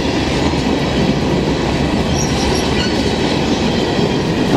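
A CN local freight train rolls past on the St. Laurent Subdivision in Montreal, a steady loud rumble of rail cars and wheels holding close and constant throughout with no voices.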